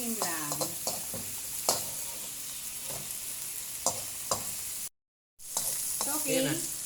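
A utensil stirs fried tilapia pieces and alugbati greens in a pan, with soft scraping strokes over a steady faint sizzle and a few sharp clinks, and a brief moment of silence.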